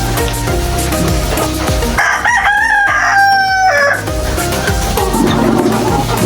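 A rooster crows loudly in the middle while hens cluck around it on a farm, with a steady patter of rain in the background.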